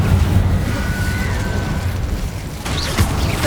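A Confringo fire-blast spell goes off in Hogwarts Legacy, a dense rumbling burst under steady mechanical game noise, with a brief whistling streak and a second sharper impact near the end.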